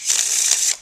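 A deck of playing cards being riffle shuffled during a card trick, a close, steady crisp flutter of cards lasting under a second with no talk.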